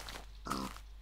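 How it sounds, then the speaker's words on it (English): A single short grunt from a pig in the video game Minecraft. It is quiet and brief, set over a low steady background hum. "There we have a little pig."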